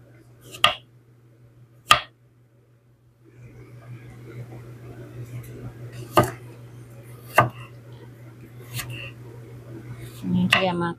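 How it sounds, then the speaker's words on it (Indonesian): A knife slices washed potatoes on a cutting board in a few sharp, spaced chops, with a steady hum and faint background noise between the cuts. "terus kita slice seperti ini saja ya"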